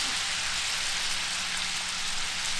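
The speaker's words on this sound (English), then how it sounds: "Let that saute in there for a little bit." Catfish fillets sizzle in butter in a hot skillet, giving a steady, dense, close-up hiss like rain that holds evenly throughout.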